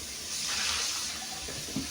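Fluval canister filter parts are rinsed under a running tap, a steady close hiss and splash of water into a sink with no speech.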